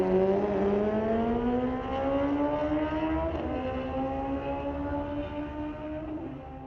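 A street-legal drag racing motorcycle accelerates down the strip at Mission Raceway Park, its engine note climbing steadily through a gear change and fading as it pulls away.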